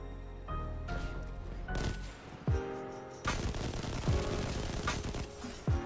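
Heavy ammo weapons fire in the video game Destiny 2, with a rapid series of loud, booming shots and thumping impacts in bursts that stack together in the second half, and no talking.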